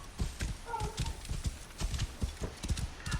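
Horse hooves clip-clop in a steady trotting rhythm in Assassin's Creed Origins, close and clear, with a brief snort or whinny partway through.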